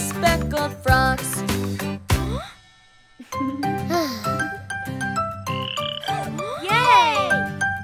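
Cartoon frog croaks ring out in a bouncy children's nursery song about speckled frogs, several loud ribbity calls sung over bright music with a brief silent gap partway through.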